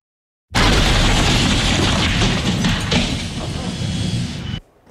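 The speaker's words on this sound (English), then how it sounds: "The fire was sparked by a lithium-ion battery that exploded. You heard the explosion." A lithium-ion battery explodes: a sudden loud burst of roaring, crackling noise that holds for several seconds with sharp pops inside it, then cuts off abruptly.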